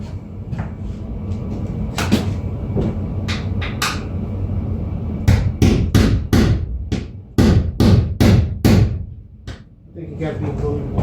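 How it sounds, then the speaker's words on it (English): Tapping with a hammer during a Chevy BrightDrop van build, a series of sharp knocks in irregular bursts, some clustered rapidly, close and fairly loud over a low background rumble. "Let me take the hammer."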